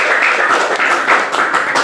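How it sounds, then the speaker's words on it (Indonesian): A classroom of students claps for a group after its grade is announced, a steady close patter of many hands filling the whole short stretch without pause. "Tepuk tangan untuk kelompok 1."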